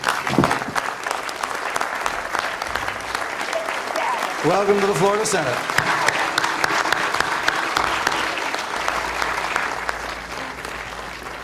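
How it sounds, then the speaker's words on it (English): Sustained round of applause from a crowd in the Florida Senate chamber, steady and moderately loud for the full stretch, with a spoken voice and brief harmonic tones rising over it midway. "would you all please join me in recognizing Mr. Andy Ford by a round of applause"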